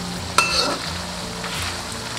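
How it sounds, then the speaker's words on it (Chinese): Scallion oil frying over low heat in a wok, a steady dense sizzle of big bubbles as water boils off, close and continuous with a brief clink near the start. "炸至这样全部在鼓大泡"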